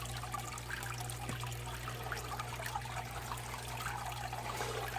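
Steady, even rush of water from an adjustable pump pouring through a gold sluice mat, a continuous close wash with a low pump hum underneath and no speech.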